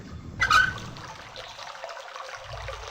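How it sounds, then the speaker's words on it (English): Water draining from a chest through a turned valve in Real Myst: a short splashing gush near the start gives way to a quiet, steady trickle and hiss that continues alone. "now that we're draining the water out"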